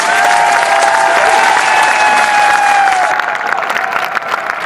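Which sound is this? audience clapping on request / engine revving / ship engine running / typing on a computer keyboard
audience clapping on request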